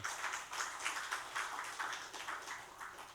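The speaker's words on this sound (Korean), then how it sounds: "저분 박수 한번 쳐줘요." A church congregation claps in a quiet, even, rhythmic patter for about three seconds, faint and somewhat distant, with no voices over it.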